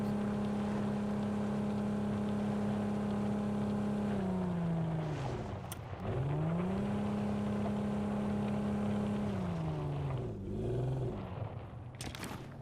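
A vehicle engine in the battle-royale game Ring of Elysium drones steadily, its pitch dipping and rising twice as it shifts speed, loud and close throughout with no talking.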